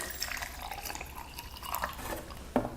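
Tap water trickles and drips into a glass holding a tea bag, a quiet liquid pour with a sharper drip near the end.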